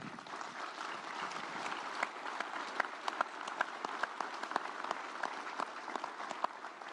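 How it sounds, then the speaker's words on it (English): Sustained audience applause at a political event with Kerr County's sheriff being honored, dense steady clapping with a few sharper claps standing out, moderately distant and without talk over it. "He's worth applauding."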